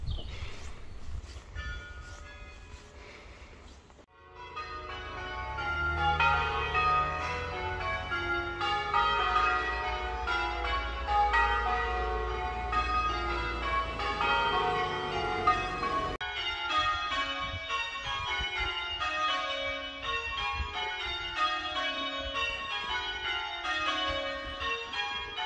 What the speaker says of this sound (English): the bell ringing, with the 12 manual bells playing a beautiful melody